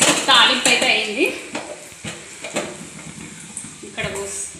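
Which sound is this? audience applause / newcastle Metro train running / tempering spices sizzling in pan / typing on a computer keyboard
tempering spices sizzling in pan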